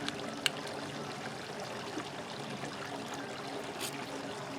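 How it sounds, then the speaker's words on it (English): Water trickles steadily in a pond outdoors, a soft continuous burble and splash close by, with no talk over it. "There is a pond behind me if you can see."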